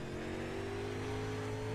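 Race cars circle a track in a sim racing game on UMP modifieds at Lanier, a steady, fairly quiet engine drone with a slowly rising pitch and no speech.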